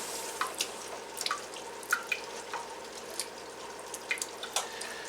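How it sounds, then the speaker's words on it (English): Water drains out through a hose from an ITEHIL ITS 100G-HW water purification system with its pump on, giving a quiet steady trickle broken by many small sharp drips and splashes, close and faint. "let that water flow through there until the hose is empty"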